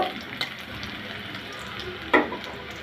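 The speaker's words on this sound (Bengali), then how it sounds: "দেবো কতগুলো রসুন কুচি ওটা একটু বেজে নিব" Chopped garlic and a dried red chili frying in a little oil, a steady low sizzle with a couple of brief stirring clatters, close and alone with no talk.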